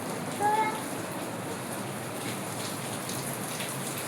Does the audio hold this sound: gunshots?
no